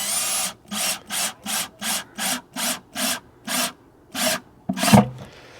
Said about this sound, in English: I'm going to go a little bit crooked just to get through the nipple. Sure. And then I'll drill the rest from the other way.